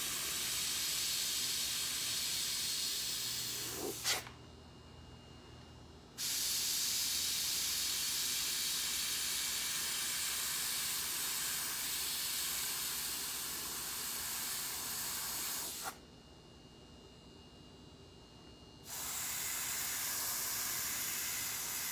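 An airbrush sprays paint onto a baseball helmet with a steady, close hiss that cuts off twice for a few seconds and then resumes.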